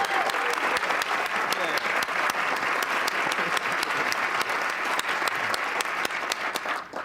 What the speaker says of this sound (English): Let's have a big round of applause to everybody.